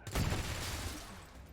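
A single sharp shot in the turn-based tactics game XCOM 2 Long War of the Chosen, cracking loudly near the start and then trailing into a brief reverberant decay.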